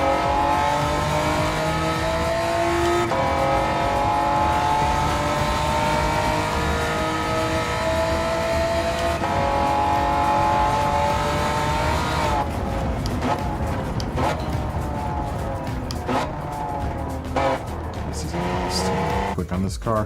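A race car engine in Gran Turismo 7 roars steadily, revving up and down through gear changes, loud and continuous with a voice talking over it.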